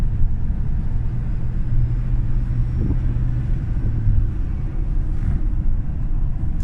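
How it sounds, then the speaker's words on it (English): A 2009 Ford Super Duty F-350 Harley-Davidson edition heard from inside the cab while driving, its turbo running under a steady deep engine rumble with a faint whistle over road noise, no talk. "There's a nice sound of the turbo"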